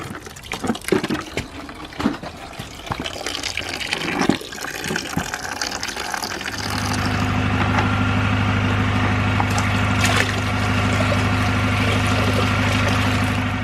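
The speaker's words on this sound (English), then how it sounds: "we now just have water dripping" Water dripping and trickling from a BMW E46 cooling system during a coolant flush. Scattered close drips and knocks give way to a steady, even flow of liquid.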